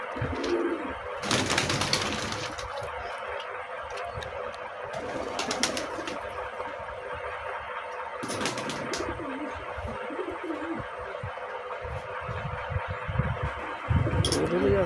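Pigeons coo in low, throaty bursts close by, with occasional wing flaps and faint chirps, and some muffled voices in the background.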